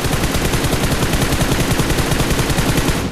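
Rapid, continuous automatic gunfire from a shooter video game, loud and sustained for the whole stretch with a steady rattling rhythm and no voices over it.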